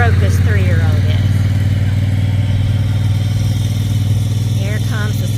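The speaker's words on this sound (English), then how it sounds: "Here comes the 72-inch bad boy mower." A large 72-inch mower engine drones loudly and steadily close by, a constant low rumble that runs throughout, with people talking over it at a horse farm.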